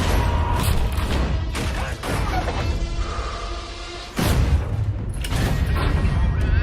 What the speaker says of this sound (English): And that is the bunker buster, or just a bomb.